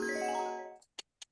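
A slot machine sound effect: a ringing chime sustains and fades, then three quick, sharp ticks or clinks follow in the silence.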